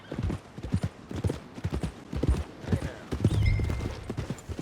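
Horse hooves clip-clop steadily at a walking pace on a road in Red Dead Redemption 2, near and rhythmic, with a short whinny toward the end.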